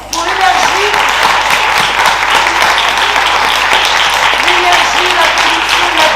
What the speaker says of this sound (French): je souhaite pour commencer qu'on l'applaudisse pour l'énergie